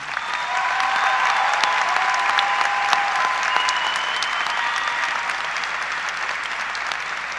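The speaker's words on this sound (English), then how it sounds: "Please join me in applauding our cum laude recipients." A high school graduation audience applauding cum laude recipients: steady, loud crowd clapping from a large room that holds evenly throughout without voices.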